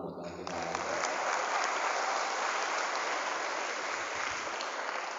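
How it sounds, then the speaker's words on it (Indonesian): An audience at a public speaking motivational seminar in a hall breaks into sustained applause, starting abruptly and holding loud and dense for several seconds before thinning slightly. "Tepuk tangan buat kita."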